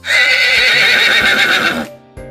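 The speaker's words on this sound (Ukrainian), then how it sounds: "Кінь каже Іго-го" A loud horse whinny with a shaky, descending quaver lasting nearly two seconds, followed by a brief pause and a short snort.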